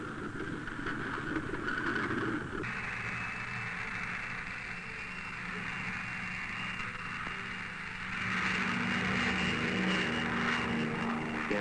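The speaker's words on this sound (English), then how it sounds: "loaded into a P-38 plane specially equipped for the cloud seeding operation" A P-38 propeller plane takes off for a cloud seeding flight. Its engines give a steady, loud droning roar that shifts in tone partway through and swells louder near the end, with no voices.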